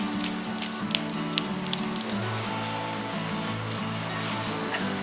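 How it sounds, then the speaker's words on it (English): Spectacle cleaner is sprayed onto a polycarbonate boat screen in a run of short, close hissing bursts over a steady background hum. "I'm using spectacle cleaner that they recommend."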